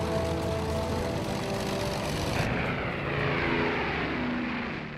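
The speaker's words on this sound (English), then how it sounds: "The first of these was the Short Stirling." Short Stirling four-engine WWII heavy bomber, a loud, continuous drone of piston engines and propellers holding steady throughout, with no voices.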